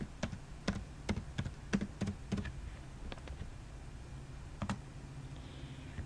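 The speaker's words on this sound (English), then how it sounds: "In this cell, I'll type in a personnel number." Rapid keystrokes on a computer keyboard entering a number into a spreadsheet cell, close and crisp, in irregular bursts of clicks with short pauses, ending in a final few isolated taps.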